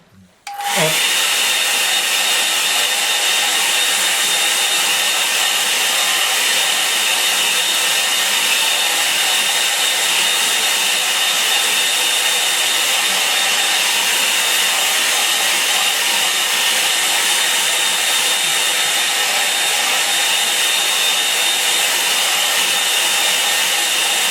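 A hair dryer switches on and blows steadily and loudly for over twenty seconds, a continuous close whoosh with no talk over it.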